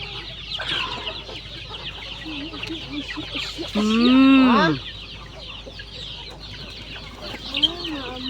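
A crowd of native farm chickens clucks steadily in the countryside, a loud close squawking call rising in the middle over a constant murmur of softer fowl chatter.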